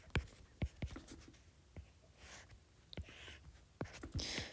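Pen strokes scratching across paper while a hyperbola graph is sketched in a precalculus lesson, a series of short, faint scrapes and taps at an irregular pace, with no talking.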